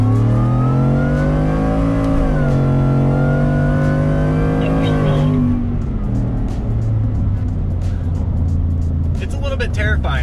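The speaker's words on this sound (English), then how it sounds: "we've got the active exhaust opened up" A 600-horsepower lifted Ford F-150 on 35-inch tires, active exhaust open, accelerates hard on a road in Mexico, its engine note climbing in a loud sustained roar before easing off into lower rumble and road noise.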